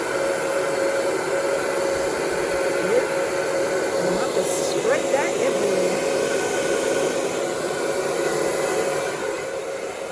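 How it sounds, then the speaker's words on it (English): A hair dryer blows with a steady, loud whooshing roar, while a person talks briefly over it near the middle. "I think my hairdryer might be a bit too powerful"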